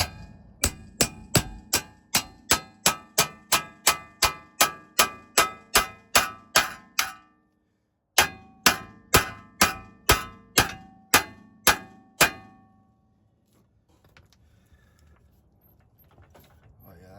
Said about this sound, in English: Not with this hammer, at least. Let's try it again.